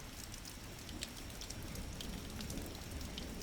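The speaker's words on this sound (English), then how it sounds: "The rain has gentled outside," Gentle rain falls steadily outside, a soft continuous patter with faint scattered drops over a low, even hiss throughout.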